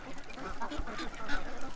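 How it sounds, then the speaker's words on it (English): Ducks quacking and honking in a brief, faint burst of overlapping calls over background noise. "50 ducks in a hot tub"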